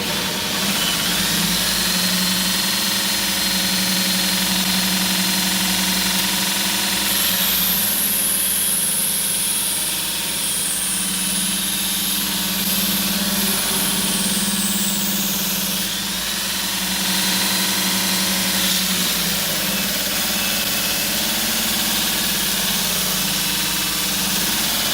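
A Grizzly 2x42 belt grinder motor runs under load with a loud, continuous mechanical hum that dips slightly in pitch partway through, with no voices.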